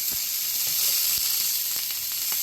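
Food seasoned lightly with salt crackles and sizzles steadily in a hot frying pan, a dense continuous hiss with scattered sharper pops, close and alone without talk.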